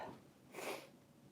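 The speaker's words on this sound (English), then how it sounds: "need to blow my nose" A single short nose blow, a breathy broadband burst lasting about a quarter second, close and fairly quiet against a soft background hiss.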